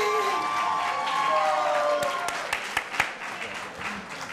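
An audience applauds at a graduation ceremony for an employment bootcamp class in Newark, a sustained wash of crowd clapping that thins slightly toward the end, with a few sharper nearby claps standing out and some voices mixed in.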